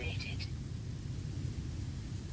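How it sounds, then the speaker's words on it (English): Rain falls steadily on an alien yellow planet in a space video game, a continuous low hiss and rumble held evenly throughout with a brief high chirp near the start. "Oh, and it's raining."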